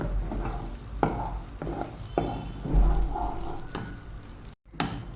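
A spoon stirs frothing sugar syrup in a pan over a medium flame, giving steady bubbling and sizzling with occasional scraping strokes against the pan, continuous and close, broken by one brief dropout near the end.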